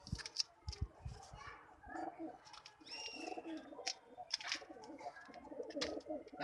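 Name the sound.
Babra pigeon cooing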